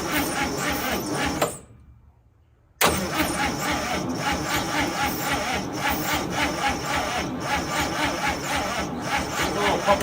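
The engine of a 1955 Chevy, parked for 40 years and with a weak battery, cranks loudly and steadily in a close, rasping, rhythmic churn, briefly stops for about a second, then cranks again continuously without catching.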